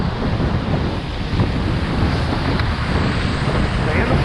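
Rushing river rapids churn and roar continuously around a kayak out on the water, a steady loud wash of turbulent flow mixed with wind buffeting the microphone.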